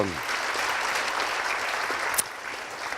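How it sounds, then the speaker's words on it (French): An audience at a wine tourism round table applauds, a dense, steady clapping from many hands in a hall that tapers off slightly at the end. "On peut l'applaudir, Thomas Montagne, le président des vignerons"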